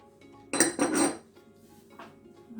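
An egg, salt and flour are mixed in a bowl: a few close clinks and scrapes of utensil against the bowl for about half a second, then quieter handling noises.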